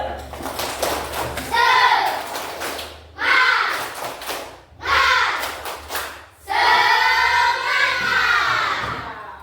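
Children in an Indonesian primary school lesson chant the 'tepuk semangat' clapping routine in loud bursts, their voices mixed with rhythmic group claps and brief pauses between phrases.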